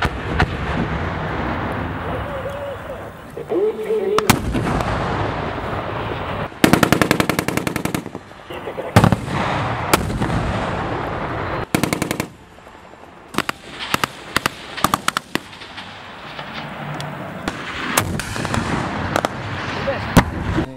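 Machine gun and small-arms fire during a company tactical military exercise: loud, rapid automatic bursts and single shots, separated by short lulls and fading echoes, with occasional distant voices.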